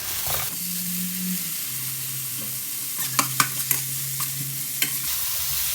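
Frozen pork stomach stir-fried in a hot pan with dried chili and pounded garlic gives a steady, close sizzle, broken late by several sharp spatula clinks and scrapes against the pan.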